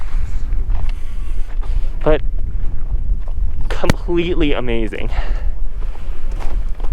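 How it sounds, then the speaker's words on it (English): Strong gusts of wind on a glacier buffet the microphone in low, rumbling bursts, while someone talks over it. "Pretty windy, so I'm not sure you can hear me"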